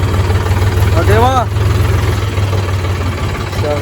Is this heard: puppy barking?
no